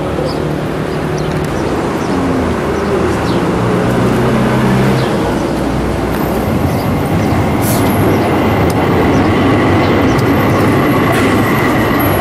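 An Antalya tram rumbles steadily along its rails, loud and close, with a low droning hum and faint squeals and clatter throughout.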